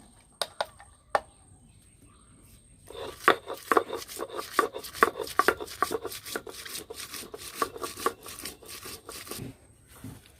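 Onion and garlic are ground into paste with a few separate knocks followed by a fast, steady run of rough scraping strokes, close and fairly loud.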